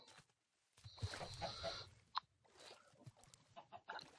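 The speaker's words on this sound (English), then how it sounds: "Oh no, not a rainbow chicken." A rainbow chicken in a modded survival video game, giving short close clucks and a sharp squawk, broken into several quick bursts with brief gaps between them.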